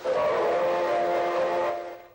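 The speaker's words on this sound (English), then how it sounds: "locomotives now came with the authentic sounds of their prototypes, including the bell effects, whistles," A single sustained model locomotive whistle sound effect blows steadily for about two seconds, then fades, a bright chord-like tone heard alone.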